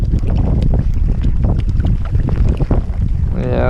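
Strong wind gusting over a lake during a catfish fishing trip in a hailstorm, loud and buffeting against the microphone with rumbling low roar throughout.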